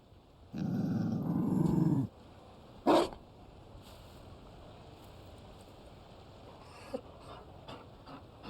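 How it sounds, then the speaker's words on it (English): A Mabari war dog in the video game Dragon Age Inquisition lets out a long low growl followed by a single short bark, close and clear, with faint game ambience and small clicks afterward. "You found a dog? They don't breed Mabari in Olay."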